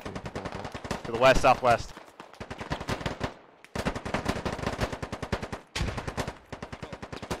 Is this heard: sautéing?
no